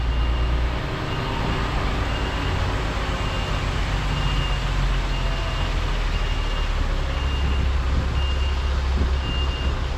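Delivery truck reversing slowly, its reversing alarm sounding steady evenly spaced beeps over a constant low diesel engine rumble, close and continuous throughout.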